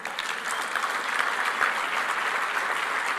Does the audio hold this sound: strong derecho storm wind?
no